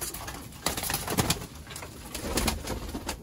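Pigeons cooing in a loft where birds are kept for sale, soft repeated throaty coos in irregular bursts, fairly close, with faint flutter and background rustle.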